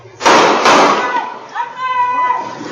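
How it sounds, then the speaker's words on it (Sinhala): Gunshots captured on CCTV as two men on a motorcycle shoot a young man: two sharp, loud bangs about half a second apart, followed by a tonal, voice-like texture and background noise. "එම තරුණයාට වෙඩි තබන අයුරුද එම CCTV දර්ශනවල මෙලෙස දැක්වෙනවා"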